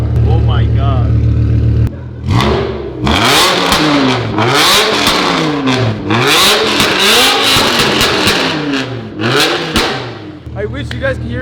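Tuned car with a ducktail spoiler and tinted headlights revs hard and repeatedly, engine pitch sweeping up and down, with crackling exhaust pops and bangs between revs, loud and close outdoors.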